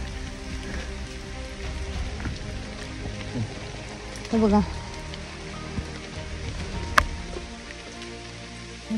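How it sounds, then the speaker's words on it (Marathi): Heavy monsoon rain pours steadily on a steep hill-fort trek in Maharashtra, a dense constant hiss filling the scene, with a few brief voices and a sharp knock partway through. "आणि पाऊस इतका पडतोय."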